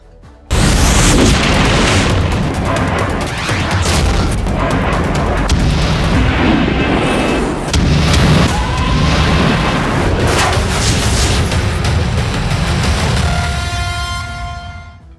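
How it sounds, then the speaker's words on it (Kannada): Heavy missile and bomb explosions from airstrikes on Iran boom one after another, loud and continuous, with sharp bursts and rumbling blasts filling the whole stretch before fading at the end. "ಎಲ್ಲೆಂದರಲ್ಲಿ ಕ್ಷಿಪಣಿ, ಬಾಂಬ್, ಬೆಂಕಿ"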